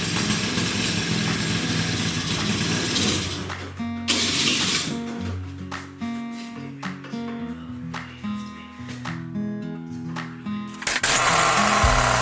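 Old-school moped with a faulty choke and carburetor, its small two-stroke engine sputtering and running roughly after starting, uneven revs rising and dropping in close, loud bursts with brief stumbles.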